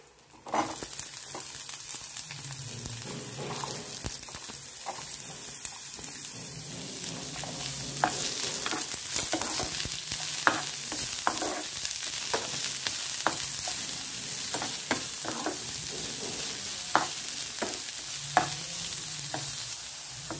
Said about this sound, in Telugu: ఇప్పుడు దీంట్లో వెల్లుల్లిపాయ రేఖలు, వేయించుకుందాం